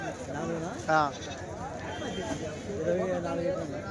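Male goats bleat a few times at a sheep and goat market, one sharp loud call standing out, with people talking over and around them.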